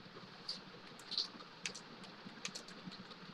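Computer keyboard typing during a Git tutorial as a log message is entered: faint, irregular clicks and taps at low volume, with no voices.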